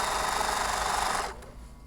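A sewing machine stitches binding onto a quilt. Its steady, fast mechanical whir runs close and even, then cuts off abruptly near the end.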